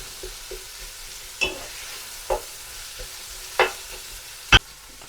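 Onions sautéing for mutton curry, a low steady sizzle broken by about five distinct stirring scrapes spaced a second or so apart, close and fairly quiet.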